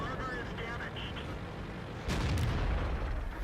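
Tank cannon fire in the World of Tanks video game, a T-28 tank, with a low booming burst starting about two-thirds through over steady game background rumble; a few faint higher tones earlier.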